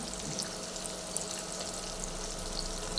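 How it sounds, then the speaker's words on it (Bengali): Chopped onion frying in hot oil for a cashew and capsicum masala, giving a steady, soft, even sizzle close by with no voices. "কুচানো পেঁয়াজ তেলের মধ্যে আমি দিয়ে দিলাম পেঁয়াজটা ভাজা হচ্ছে"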